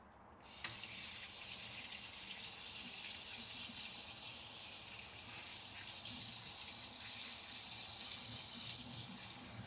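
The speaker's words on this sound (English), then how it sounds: "I'm gonna just give it a little rinse." Tap water running steadily over a raw steak in a home kitchen sink: a continuous loud gushing stream that starts abruptly and keeps flowing without pause.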